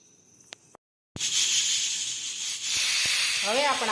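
A pressure cooker boiling bitter gourds gives off a steady loud steam hiss that starts abruptly after a brief silence and continues to the end, with a few faint clicks before it.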